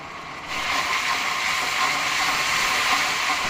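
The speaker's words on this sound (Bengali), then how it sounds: "নেড়ে চেড়ে রসুন বাটা দিয়ে দিচ্ছি" Garlic paste and chicken frying in a pan for homemade biryani, giving a steady, loud broadband sizzle that starts abruptly after a brief quiet moment and continues evenly without speech.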